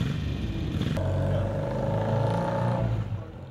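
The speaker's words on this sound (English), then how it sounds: "kickstart their vintage bikes" Vintage Norton motorcycles fire up after kickstarting at a club ride gathering, one engine catching and idling with a rough, steady mechanical drone close by, over general outdoor background noise.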